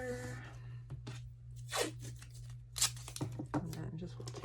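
Tape is ripped off the roll in a few sharp, close bursts as a paper wallpaper template is fixed down, with a person talking between the tears over a low hum.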